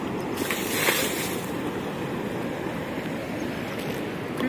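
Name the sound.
waves of water coming in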